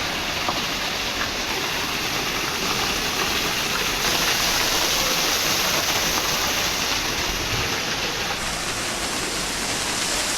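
A waterfall on a hiking trail in Sydney, Australia, gives a steady, loud broadband roar of rushing water that fills the whole stretch without pause.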